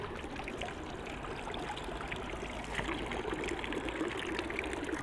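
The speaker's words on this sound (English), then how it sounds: "This is the fresh water from mountains coming out of these fountains" Fresh mountain water pours steadily from a public fountain in Switzerland, a continuous close splashing and trickling stream with no voices.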